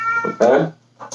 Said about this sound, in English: that is my cat meowing and he's being very annoying